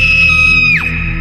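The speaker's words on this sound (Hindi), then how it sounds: "चीखने की आवाज सुनाई दी।" A woman's high scream as a horror-story sound effect, one sustained shrill cry that bends sharply downward near the end, loud over a steady droning background with no talk.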